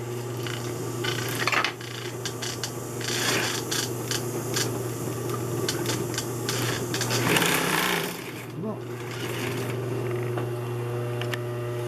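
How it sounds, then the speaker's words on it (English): Singer 211U566 walking foot industrial sewing machine stitching steadily, a continuous motor hum with rapid mechanical clatter of the needle and walking feet, close and loud, with a short change in tone near the end. "that's going to make this lift even higher as it sews"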